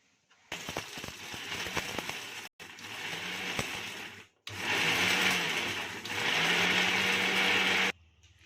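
An electric mixer grinder runs dry, grinding curry leaves into chutney powder. It makes loud, close whirring bursts that start and stop, with the longest run at the end.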